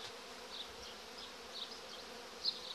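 Honeybees fly out of a hive in early spring after wintering, their faint, steady buzz continuous, with one brief closer pass near the end.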